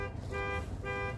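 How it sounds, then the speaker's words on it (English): A car alarm sounds nearby in an RV setting, a repeating electronic two-tone chirp pulsing twice in quick succession, loud and close with no talking. "I just set the alarm off next to me."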